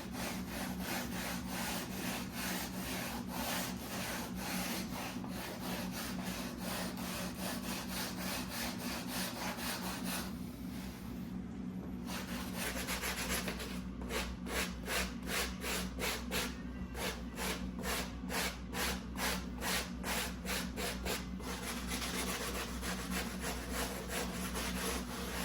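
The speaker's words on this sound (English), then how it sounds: "Once the sanding is all done" Steady, continuous abrasive rubbing in rapid back-and-forth strokes on a rabbit felt cowboy hat, close up and alone, with a brief pause midway before the scraping resumes.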